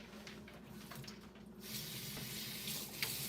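Tap water runs steadily into a sink while apples are washed, a broad hiss that grows louder and fuller midway, with a small splash near the end.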